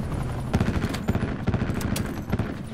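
Rapid bursts of tank gunfire from a Tempest in a video game, with dense repeated low booms and cracks firing back to back at close range throughout.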